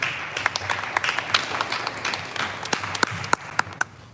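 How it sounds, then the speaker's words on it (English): A modest round of applause for a speaker at a city Carnival 2021 welcome event, scattered distinct hand claps from a small audience, fairly faint and thinning toward the end. "Let's give him a round of applause."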